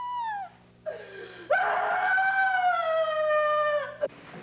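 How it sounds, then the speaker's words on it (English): A troubled 17-year-old girl at a residential program screams and cries: a long, rising-and-falling wail after a shorter sob, loud and close, with no other voices. "Those are the screams of a 17-year-old girl, a troubled youngster crying for help"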